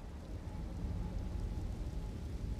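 Steady rain pours in an Elden Ring game world, a constant broadband hiss with low rumble throughout, even and unbroken.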